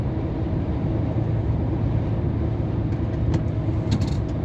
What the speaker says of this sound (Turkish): Scania R500.